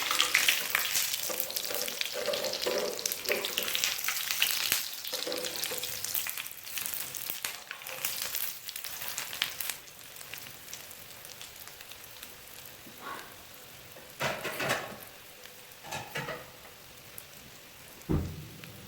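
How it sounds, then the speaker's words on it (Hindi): Potato and chicken-filled kababs frying in a pan, a dense crackling sizzle like rain on a surface, loud at first then easing, with occasional louder spatters and utensil knocks. "कबाब हमारे फ्राई हो चुके हैं।"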